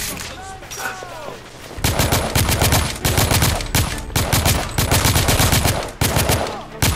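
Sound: assault rifle gunfire in video game The Order: 1886

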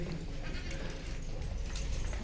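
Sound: goats bleating

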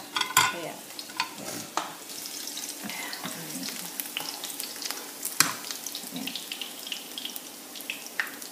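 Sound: sautéing chicken and onion in a pan for pansit

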